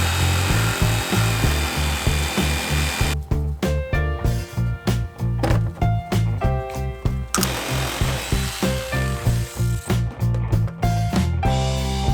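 A power tool cuts a speaker hole in plastic, its motor whining in loud, rhythmic bursts with short pauses between strokes, close by and alone.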